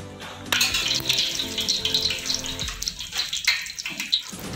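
Green cardamom pods crackle and sizzle in hot oil in a pan, a continuous hissing fry with scattered pops and brief sharper bursts, close and fairly loud with no voices over it.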